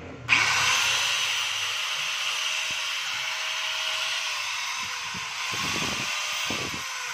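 A repaired DeWalt DW8200PL 4-inch angle grinder snaps on and runs at full speed, giving a loud, continuous high-pitched whine that holds steady for several seconds without talk.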